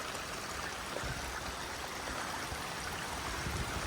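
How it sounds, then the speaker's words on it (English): Rainwater running down a hiking trail on the Appalachian Trail after a day of rain, a steady close rushing and gurgling that holds evenly throughout with no talk. "So Trail is a stream right now because of all the rain yesterday."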